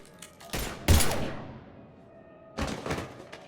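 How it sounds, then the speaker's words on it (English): Gunfire in the video game Mass Effect 3: a few sharp, loud blasts in quick bursts, with a heavy thud near the start and another burst near the end, separated by a decaying tail. "Now open fire!"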